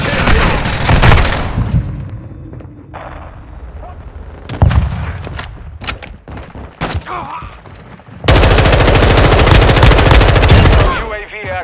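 Gunfire in the Call of Duty: Modern Warfare video game: rapid machine-gun bursts and sharp single shots with booming impacts, loud and close, alongside radio-style game voices.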